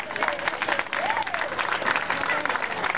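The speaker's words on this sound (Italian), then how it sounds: "Un applauso." An outdoor village-festival crowd claps steadily for about three seconds, a dense, even patter filling the whole stretch, with a voice faintly audible over the clapping.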